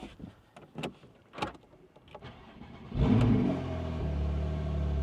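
A Porsche 911's six-cylinder engine follows a few clicks and clunks from the car, then cranks, catches with a loud burst and settles into a steady, rumbling idle, close up.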